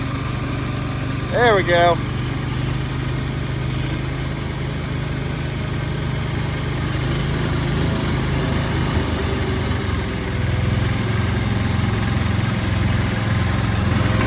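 A diesel-swapped 1970s Sears lawn mower engine runs in gear with a steady, loud, low chugging throb that shifts pitch near the end, while someone speaks briefly over it.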